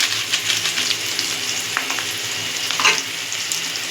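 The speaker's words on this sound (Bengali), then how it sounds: "দিয়ে এটাকে হালকা ভাজা ভাজা করে নেব" Soya chunks fry in a pan with a little turmeric, giving a steady close sizzle and crackle with brief stirring scrapes and no talk.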